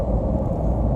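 A 2019 Nissan Titan Pro4X pickup drives while towing ATVs, giving a steady loud low engine and road drone heard from inside the cab.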